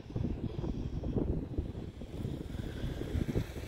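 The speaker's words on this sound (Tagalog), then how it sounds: "Lumakas ang hangin." Strong wind blows steadily outdoors beside a community highway, a dense rushing roar with gusty swells and buffeting across the whole stretch, no voices.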